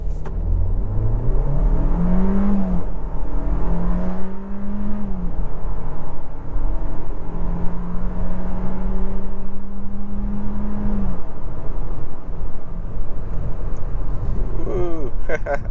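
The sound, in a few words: 2025 Kia Seltos SX AWD accelerating, 0 to 60 test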